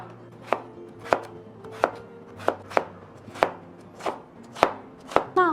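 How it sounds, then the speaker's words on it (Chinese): Potatoes diced into cubes with a knife on a cutting board, nine sharp chopping thuds in an uneven steady rhythm, close and clear with no talking. "马铃薯切成丁状。"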